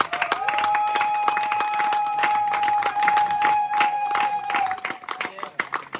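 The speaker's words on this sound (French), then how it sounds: "Est-ce qu'on peut acclamer pour ces témoignages?" A church congregation claps and cheers after testimonies at a religious gathering, a steady wash of applause with a sustained whistle-like tone running through it, tapering off toward the end.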